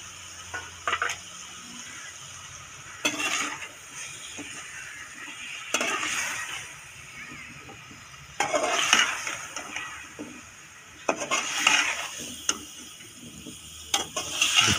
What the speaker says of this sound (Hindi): अब इसमें कलवंजी डालेंगे और इसके साथ जो पिसे हुए मसाले भी आपको दिखाए थे वो डाल दें।